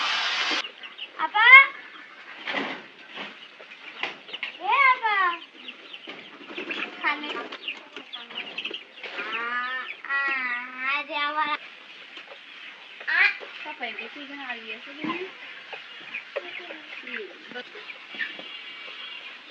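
Chickens cluck and squawk repeatedly at close range in a busy poultry shed, calls overlapping in irregular bursts.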